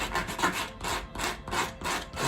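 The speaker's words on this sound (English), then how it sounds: "a wee bit of sandpaper" Sandpaper rubbing greenhouse nuts on a Hall's Magnum greenhouse build: steady rhythmic back-and-forth scraping strokes, close and fairly loud, repeated about five times with no talking.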